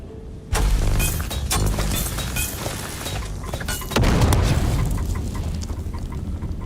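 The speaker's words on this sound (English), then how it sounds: "Grenades at me." Grenade explosions in the video game Dune: Awakening, a sudden loud blast kicking in early and a second heavy boom a few seconds later, each followed by crackling debris and rumble.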